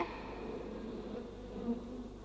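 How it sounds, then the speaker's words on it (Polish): A dense, continuous buzzing of many bees hums close by, steady and droning without pause. "pszczoły zawsze zbierają się w rój"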